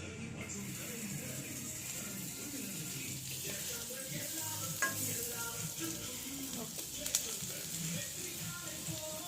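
Butter fries in a kadai for spaghetti pasta, giving a soft, continuous sizzle at low volume with occasional clinks, while a person talks over it.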